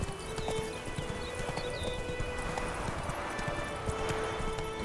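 Roach, the horse in The Witcher 3: Wild Hunt, gallops with rapid, rhythmic hoofbeats close by, continuous and fairly loud, with game ambience and faint tonal sounds underneath.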